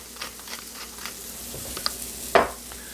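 Nettles frying in butter in a pan, a soft continuous sizzle with light stirring scrapes and one sharper clatter near the end, close and fairly quiet.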